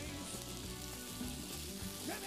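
Potatoes and half-moon sliced onion fry in hot oil in a pan, a steady dense sizzle that holds throughout with faint stirring scrapes near the end.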